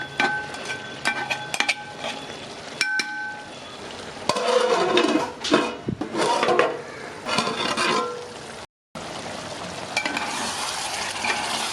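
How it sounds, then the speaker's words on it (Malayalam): Chicken masala stirred and frying in a pan, with a spoon scraping and clinking against the metal over a steady sizzle, in intermittent close stirring strokes and a brief silent gap. "ഒന്നുകൂടി ഒന്ന് നന്നായിട്ടൊന്ന് മിക്സ് ചെയ്ത് കൊടുക്കാം."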